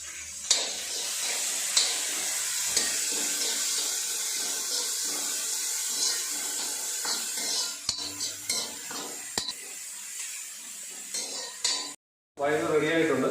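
Onions frying in a pan with salt over a steady sizzle, with a spoon stirring and scraping against the pan at intervals. Dishes clink now and then and water runs briefly, and the cooking continues for the whole stretch.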